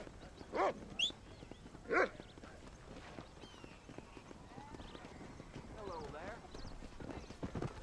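Inside the Red Dead Redemption game, a dog lets out two or three sharp barks amid horse hooves clip-clopping on a western trail, with someone talking over the scene and game ambience beneath.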